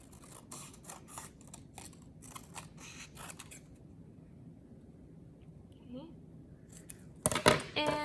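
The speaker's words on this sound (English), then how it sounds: "You could trim it down a little." Scissors snip through paper in a quick run of close, crisp cuts, then go quiet, and a louder snipping burst comes near the end. A person talks softly between the cuts.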